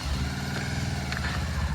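Motorbike engine running steadily as it is ridden on a mountain trail, a low continuous drone held close throughout with faint background chatter.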